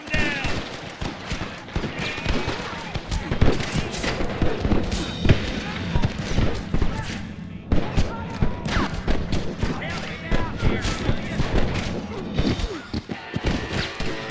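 Heavy gunfire in Red Dead Redemption, rapid overlapping shots and impacts with hoofbeats and shouting voices layered through a dense, loud battle.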